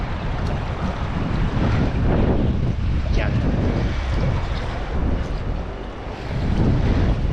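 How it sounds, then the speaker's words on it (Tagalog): Strong wind buffeting a microphone aboard a fishing boat at sea, a loud, rumbling, gusting roar mixed with water wash, with a brief word spoken over it. "malakas ang hangin"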